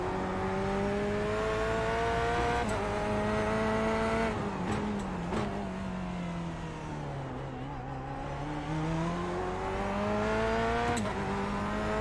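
A sim race car lapping in iRacing, played in a motion cockpit, holds a loud, continuous engine whine that rises and falls through gear changes and corners, with faint tire noise and no talk.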